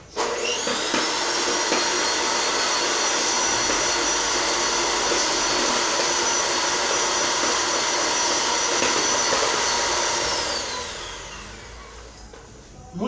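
An electric mixer whips slightly soft chantilly cream for a São João themed cake, a steady loud whirring drone running continuously for about ten seconds before winding down and stopping.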